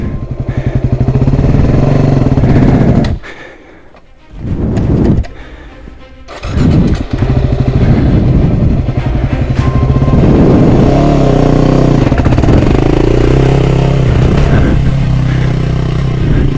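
Off-road motorcycle pulling away in first gear, its engine loud and close, droning and revving with a brief dip in the middle before climbing again, clattering mechanical noise throughout, no talking.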